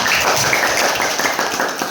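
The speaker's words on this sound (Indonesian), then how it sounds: "tepuk tangan untuk kelompok 4" A classroom group applauds a student team in a dense, steady burst of clapping that fills the whole moment at close range, loud and unbroken.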